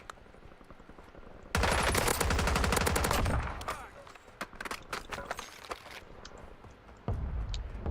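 Gunfire in the video game Warzone plays as a loud rapid burst of automatic fire, then scattered shots and impacts. Another burst follows near the end, with voices partly over the action.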